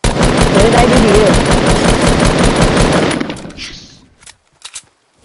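Machine gun fire in a PS4 video game: a loud, continuous stream of rapid shots for about three seconds, then a fading tail and a couple of faint knocks.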